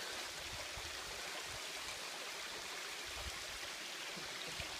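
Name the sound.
Hemmed-in-Hollow waterfall, water flowing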